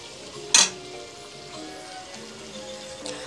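A metal spoon scrapes and clinks against a pan while meat sizzles quietly underneath, with a sharp clank early and a softer one near the end.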